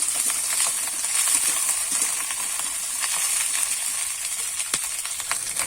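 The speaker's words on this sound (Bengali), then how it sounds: "প্যাঁচকালিটা আমি একটু নেড়ে তেড়ে ভেজে নেব" Chopped onion stalks being stir-fried in a pan, producing a continuous close sizzle with scattered crackles and occasional sharp ticks of the utensil against the pan, with no speech.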